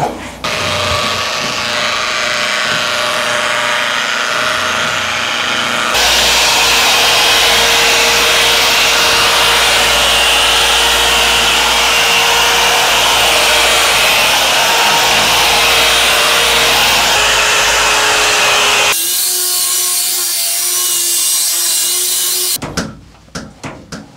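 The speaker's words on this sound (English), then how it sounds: "So this one I'm gonna use the cutting pad first." An electric polisher fitted with a cutting pad and optical grade extreme compound 32 runs over glass with water spot stains, a loud steady whir that changes pitch and tone as pressure shifts before cutting off abruptly.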